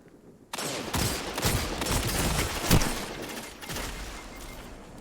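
Rapid bursts of gunfire from a shooter video game crackle almost continuously and loudly for several seconds, with a heavier shot standing out near the middle.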